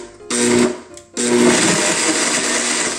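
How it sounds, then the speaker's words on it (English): A blender pureeing frozen cherries, the motor roaring loudly, briefly cutting out, then starting again and running steadily, with a dense whirring grind. "now I'm just gonna put them into the blender and just blend"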